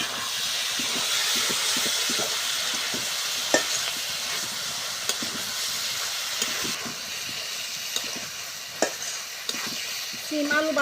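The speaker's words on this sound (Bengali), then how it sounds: "সিম আলু ভালো করে কষানো হয়ে গেছে" Flat beans and new potatoes sautéing in spices in a pan for a rohu fish curry, a steady close sizzle with repeated scraping stirs and occasional sharper clinks throughout.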